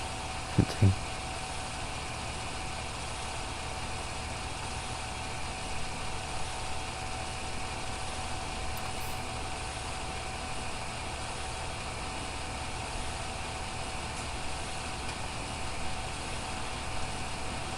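Grain auger unloading in Farming Simulator 17 during harvest, a steady mechanical engine drone running evenly throughout with a couple of brief clicks near the start.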